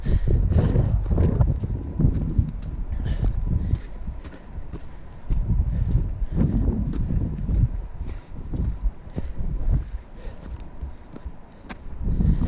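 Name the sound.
wind on mountain summit in fog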